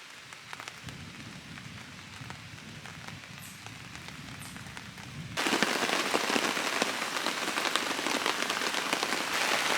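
Rain pattering steadily on a canoe trip, light and fine at first, then abruptly heavier and louder as the downpour intensifies, with no voices.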